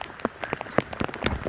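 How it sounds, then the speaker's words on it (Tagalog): Heavy, wind-driven rain pouring outdoors at a headland, a steady broadband wash of downpour broken by sharper splashing gusts and drops, close and fairly loud with no talking. "It's heavy rain!"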